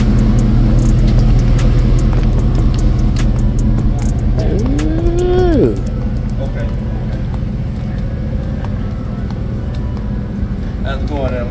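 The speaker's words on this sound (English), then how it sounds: "Leave my truck running." A truck engine idles steadily close by, a constant low rumble under people talking, with another vehicle passing briefly.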